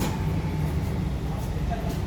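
Lyon TCL tram on line T1 running, a steady loud low rumble and rolling hum that holds throughout with no breaks, heard up close from inside or beside the tram.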